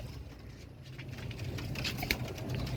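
Soft low cooing from Kasni Kamangar Teddy pigeons repeats steadily under faint rustling and scattered clicks, fairly close but quiet.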